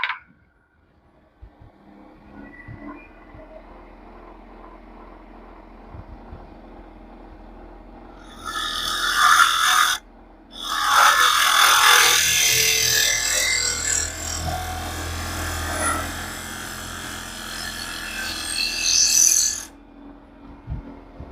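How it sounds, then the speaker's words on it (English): A woodturning tool hollows out a spinning wooden bowl on a lathe, giving a long scraping, hissing cut that swells in two loud bursts separated by a short pause, over a low motor hum. "we'll do a little bit more hollowing out of the bowl"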